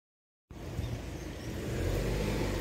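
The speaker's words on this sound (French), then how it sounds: "c'est une voiture" A car on a small village square near a church in Biscarrosse, its engine noise cutting in abruptly and holding as a steady, broad rumble that grows slightly louder as it approaches.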